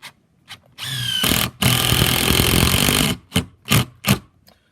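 A power drill whines loudly and close up as it drives an ordinary wood screw into softwood in a couple of sustained bursts, working harder against resistance, followed by several short trigger blips.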